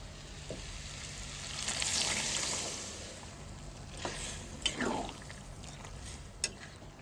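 Chicken and potatoes sauté in a pan as peas are added, making a soft, faint sizzle with a few light clinks and stirring scrapes.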